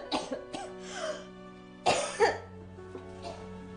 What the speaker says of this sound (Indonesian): Bu sakit. Batuknya parah banget, Bu.